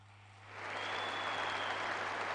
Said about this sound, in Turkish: Alkış biraz daha artar diye söyledim